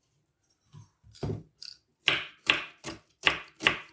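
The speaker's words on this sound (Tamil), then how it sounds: "முதல்ல வெங்காயத்தை வெட்டுவேன்." A knife chopping onion on a board, a few soft scattered cuts giving way to five sharp, evenly spaced chops, close and loud with no talking.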